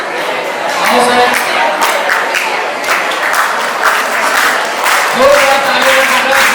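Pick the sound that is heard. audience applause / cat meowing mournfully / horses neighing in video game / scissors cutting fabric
audience applause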